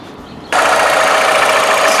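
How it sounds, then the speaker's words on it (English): A car engine cranks and catches, then runs with a loud, steady, rough rumble up close after a quieter half-second lead-in. "let me start the engine"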